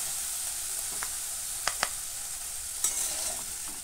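Vegetable curry is stirred in a pan after its water has dried off, a soft steady hiss with a few brief clinks and scrapes of a spoon, close up and without voices.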